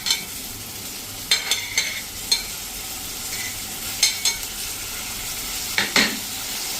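Grated onions hit a hot pan of cooked paste for a Ratlami sev curry, sizzling steadily up close while a spoon stirs and scrapes the pan in several brief clatters.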